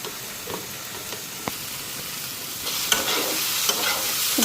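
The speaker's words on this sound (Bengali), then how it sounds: "এদিকে মশলা পুরো ভাজা হয়ে গেছে" Dried fish masala paste frying in a pan, a steady close sizzle punctuated by light taps and scrapes of a spoon stirring, growing a little louder and busier toward the end.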